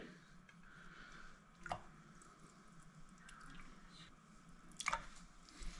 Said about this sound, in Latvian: Augstā ūdenī liekam iekšā zivi.